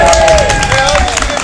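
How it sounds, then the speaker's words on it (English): A crowd at a protest applauds together, a short dense burst of clapping and cheering close up, with voices mixed into the noise. "And a big clap for everybody."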